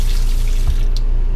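A kitchen sink faucet runs in a 2016 Thor A.C.E. 30.1 motorhome, giving a loud, steady close rush of water with a small clink partway through and no talking.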